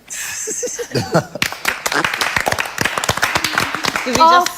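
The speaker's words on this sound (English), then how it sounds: "We just clapped." A television discussion panel breaks into a short burst of hand clapping, quick uneven claps mixed with overlapping talk and a little laughter.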